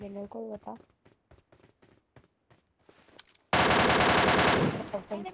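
An MK gun firing in PUBG Mobile Lite: a loud, rapid burst of automatic shots lasting about a second, which comes after someone speaks and some scattered clicks.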